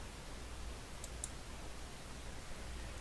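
Two quick computer mouse clicks sound in close succession, faint and crisp over a low steady hum, with no voice.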